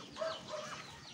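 Rhode Island chickens on a small farm let out a couple of short clucks close by over a quiet background.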